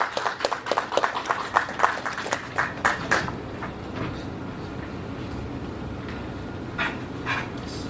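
Applause at a cricket league trophy launch: a burst of clapping rings out up close, then fades into a murmuring crowd, with a few more scattered claps near the end.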